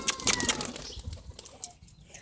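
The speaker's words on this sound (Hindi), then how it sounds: "ये उड़ा है कबूतर अपने बाहर आ रहे हैं भाई आहिस्ता।" Rapid wingbeats of a pigeon taking flight, a burst of flapping up close that trails off into fainter rustling.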